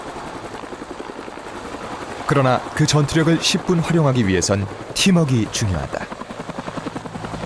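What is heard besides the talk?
AH-1 Cobra attack helicopter flying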